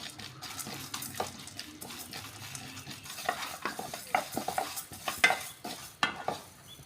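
Dry moong dal and roasted gram scraped and stirred around a hot pan with a spoon while roasting, irregular scratchy strokes and light rattling, close by and fairly quiet.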